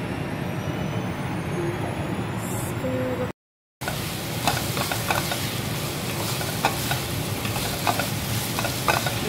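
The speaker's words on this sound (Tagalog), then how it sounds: "gisa-gisa muna natin yung chicken at sausage." Chicken and sausage sauté in a pan, sizzling and frying steadily up close, with the crackle carrying through the whole stretch after a brief break in the sound.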